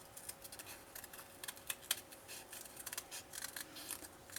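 Scissors snip through paper for a scrapbook page in a run of quiet, close, crisp cuts, short bursts spaced unevenly with a few sharper clips standing out.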